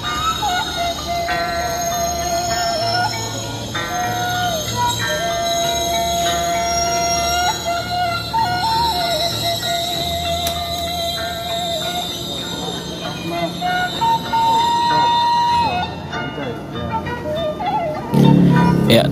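A KA Lokal Bandung Raya local train pulls into a station at night. Loud, sustained metallic wheel squeals and sliding tonal screeches rise over a rumbling rail drone, with a heavier thud near the end as it comes to a stop.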